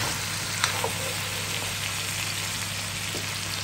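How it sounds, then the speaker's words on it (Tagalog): Lemongrass stalks sautéing in a pan with beef trotters for balbacua, giving a steady, moderately loud sizzle with a couple of light stirring clicks, no voices. "Nilagay na rin ni Amiga yung tanglad. Sinama na rin sa gisa."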